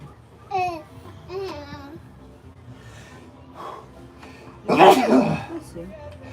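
A single short, loud sneeze bursts out near the mic after a few quiet spoken words, with faint background voices around it.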